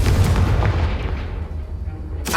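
A Confringo blasting spell in Hogwarts Legacy on PS5, a loud booming explosion that hits at once and rumbles away over a couple of seconds, with a sharp new burst at the very end.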